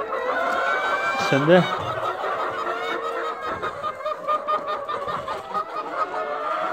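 Chickens cluck and squawk close by in a coop, a busy, steady chatter of fowl with a person speaking briefly over them.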